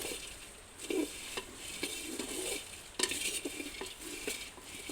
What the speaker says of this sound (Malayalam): ചട്ടിയിലിട്ടൊന്ന് വറുത്ത് പൊടിച്ച് നോക്കാം നമുക്ക്